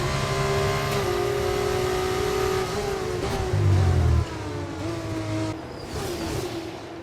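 Formula race cars accelerating side by side in a DRS drag race at the Austria feature race, loud high-pitched engine whine with rising and falling gear sweeps, a brief deeper roar midway, no voices.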